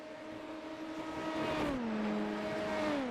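LMP prototype race cars in a sim racing game at Daytona approach with a steady engine drone, the pitch swooping down as they draw near and pass, fairly faint and without voices.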